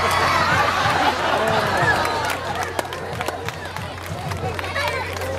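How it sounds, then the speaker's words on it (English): A crowd at a monkey show at the Great Allentown Fair claps and giggles, with scattered sharp claps and lively chatter and laughter at moderate distance, busy at first and then thinning out. "You know, that clapping and giggling,"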